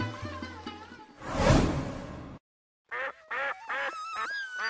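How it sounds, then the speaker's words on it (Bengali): Cartoon ducks quack in a quick series of short, bright, nasal calls after a whooshing sweep and a brief silence, loud and close in a Bengali fairy-tale animation. "তোর ঘরে তো এখন হাঁসের রাজ্য"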